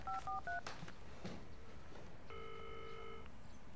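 A phone number is dialed as a quick run of several touch-tone beeps, then a single longer ringback tone follows over faint background noise, with no one speaking.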